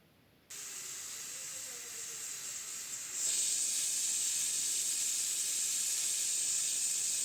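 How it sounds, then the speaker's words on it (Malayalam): Steady hiss of steam escaping a pressure cooker on a high flame while green peas pulao cooks, starting abruptly and jumping louder partway through, continuous and close with no talking. "ഹൈ ഫ്ലെയിമിൽ 1 വിസിൽ വന്നു കഴിയുമ്പോൾ നമുക്ക് ഫ്ലെയിം ഓഫ് ചെയ്യാം."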